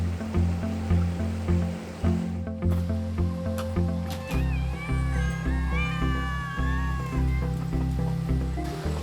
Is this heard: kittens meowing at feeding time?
yes